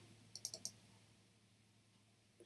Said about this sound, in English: if I double click that